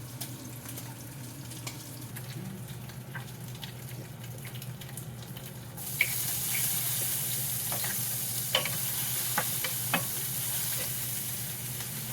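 Boiled pork for pochero browning in a hot pan, a steady close sizzle that jumps louder partway through, with occasional sharp pops and spatters.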